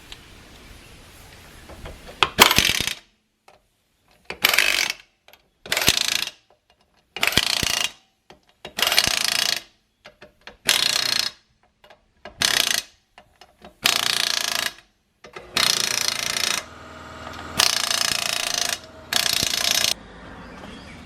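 An impact wrench tightens lug nuts on a cargo trailer wheel, about a dozen loud, close rattling bursts, each a second or so long, separated by short silent gaps.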